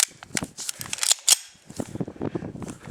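A Ruger PC-9 9mm carbine fires several sharp shots outdoors, each crack standing out loud and distinct in an irregular sequence with short gaps between them.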